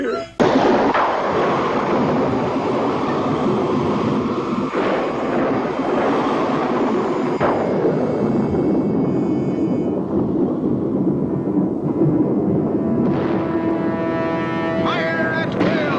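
Pirate ship cannons firing in a movie battle: a dense, continuous roar of booming blasts and rumbling impacts throughout, with deep thuds repeating every couple of seconds and a voice shouting over the din.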